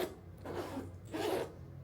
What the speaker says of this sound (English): zippers going good here